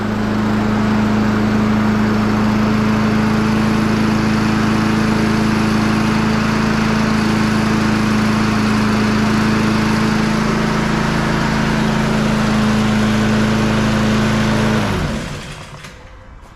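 A small petrol engine with a freshly cleaned carburettor runs steadily and loudly with a constant droning hum, its pitch dipping slightly once, before it cuts out and winds down.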